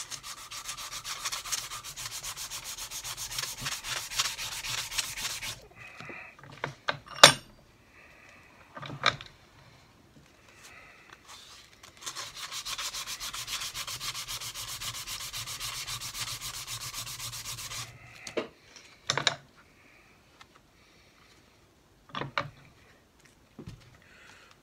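A stuck Honda CB750 brake piston, wrapped in cloth, is polished with emery tape, making two long bursts of rapid, close scratchy rubbing separated by clicks and clunks of handling.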